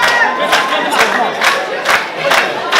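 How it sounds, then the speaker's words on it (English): Pro wrestling crowd at an independent match chanting rhythmically for a popular wrestler, loud rising-and-falling rhythmic cheers about every half second from a packed room, close and energetic. "The crowd willing up HT Drake."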